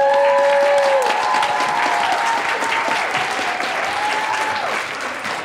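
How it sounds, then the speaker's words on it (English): At a farmers market Feud-style game show, a crowd bursts into sustained clapping that slowly tapers off, with a few whistles and voices mixed into the applause. "If you thought this was the best answer, applaud right now."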